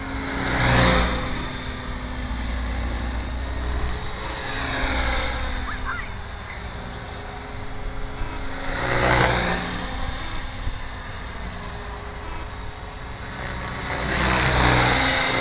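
A Gaui 550 RC helicopter flies with a fairly low rotor head speed, its electric motor and rotor making a steady droning hum that swells and fades as it moves around.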